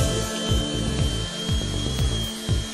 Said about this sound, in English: This tool enables you to achieve the high-quality sanding pattern required for repainting fiberglass